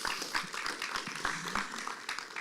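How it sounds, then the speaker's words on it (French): Fairly quiet audience applause at a conference in Pointe-à-Pitre, Guadeloupe: a soft, continuous patter of clapping from a seated crowd, without a clear peak or ending. "on peut déjà l'applaudir, parce que c'est un vrai challenge"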